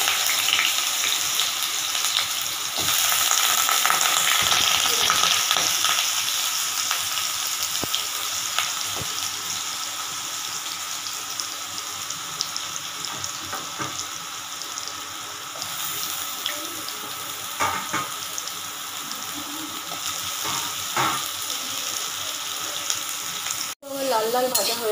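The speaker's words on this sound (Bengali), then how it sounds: "কড়াইয়ে তেল নিয়ে এবারে আলুগুলো ভেজে নিন।" Potato pieces fry in hot oil in a wok, giving a steady close sizzle with occasional stirring scrapes and clinks, alone without talk.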